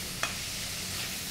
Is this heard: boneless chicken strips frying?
yes